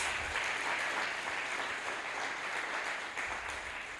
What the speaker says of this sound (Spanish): Dale fuerte el aplauso al Rey de Reyes y al Señor de Señores.